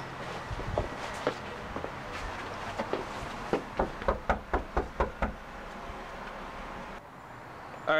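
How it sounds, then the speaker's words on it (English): Knocking on a house door: a burst of about eight firm, evenly spaced raps, fairly close, over a low outdoor background with faint traffic. "check for activity and knock on the door"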